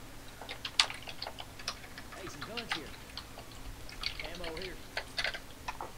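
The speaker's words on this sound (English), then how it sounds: "I hear the typing." Rapid clicking keystrokes on a computer keyboard come through in scattered bursts during a Left 4 Dead 2 game session, with people speaking over them.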